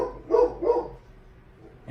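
A dog barks twice in quick succession, fairly close and clear, followed by a quiet room with no talk.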